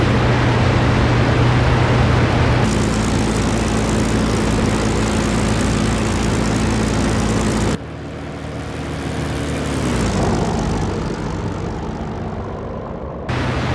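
Propeller aircraft engine in the IL-2 Sturmovik flight game, a World War II fighter with a damaged engine throwing oil, droning loud and steady throughout, with a brief drop in level midway before the engine roar resumes at a similar intensity.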